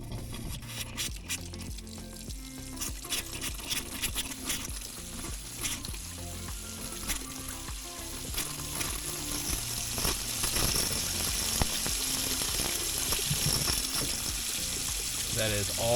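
Water and air rush from a boat's freshly bled hot water tap, a turbulent gushing and sputtering flow that grows louder and steadier over time, with scattered clanks and brief background voices.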